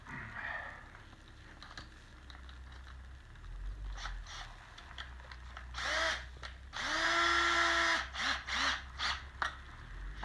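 Power tool tightening a clamp part; short bursts of whirring motor, several brief revs and one longer sustained run, close and moderately loud with handling rustle between.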